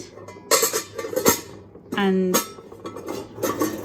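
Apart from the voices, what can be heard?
glass dishes with lids clinking in hostess trolley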